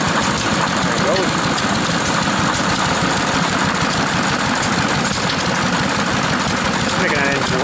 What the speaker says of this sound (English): Making that engine work pretty good.